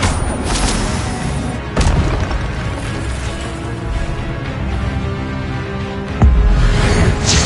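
A fire spell cast in Hogwarts Legacy bursts out in loud, roaring blasts, with sharp whooshing onsets near the start and again near the end over a steady rumbling combat din.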